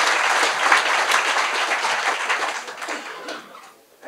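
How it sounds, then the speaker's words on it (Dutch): An audience applauds riders of a cycling team at a team presentation, a dense burst of clapping from a crowd that fades out over about four seconds. "Mag ik een applaus voor Boorhouwers, Kutroaars en Piet Scholten"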